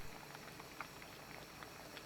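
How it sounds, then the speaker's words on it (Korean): Korean sand lance stew bubbling in a pot with green onion, tofu and chili, a soft continuous simmer with faint irregular pops, quiet and close, no talking. "보글보글 끓으면 그때부터 5분 끓입니다"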